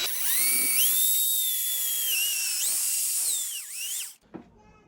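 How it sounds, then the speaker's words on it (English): An electric drill whines loudly and close as it bores a hole for a rear brake cable on a Ninebot Max scooter, its pitch sagging under load a few times before it stops with a short clatter. "I want to drill it."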